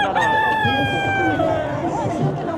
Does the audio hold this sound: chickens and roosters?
yes